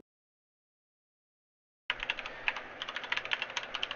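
Silence, then close typing on a computer keyboard starts partway through, with brisk, irregular key clicks running to the end.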